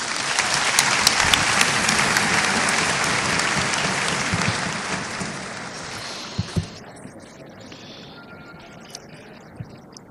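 Audience at a women's day ecumenical service in DR Congo applauds loudly and continuously, the clapping thinning out and fading toward the end with a few last scattered claps.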